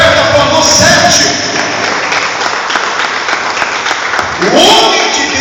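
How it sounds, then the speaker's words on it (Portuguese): A church congregation applauds loudly and continuously, a dense wash of clapping with shouts and a voice rising over it at the start and end. "Vamos aplaudir o Senhor, porque o profeta falou 7."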